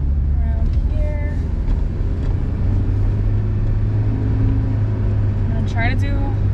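A Honda S2000 with a manual gearbox drives along, its engine a steady low rumble beneath close talking voices in the cabin.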